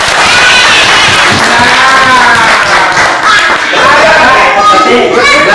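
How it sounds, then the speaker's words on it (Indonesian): A group at an environmental education workshop in Mendawai, Central Kalimantan, bursts into loud, close clapping mixed with cheering and overlapping voices, continuing steadily throughout. "Tepuk tangan."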